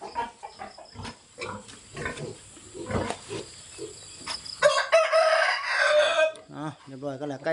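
Two roosters fighting on a farm. Rough squawks and scuffling calls come in bursts, followed by a loud drawn-out harmonic cry and short crowing calls at the close, with some farmyard background noise.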